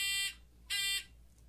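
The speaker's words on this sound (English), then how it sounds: "You're going to hear a beep." Two loud electronic beeps, each about a third of a second long, sound close together with a short gap between them, sharp and buzzy against a quiet background.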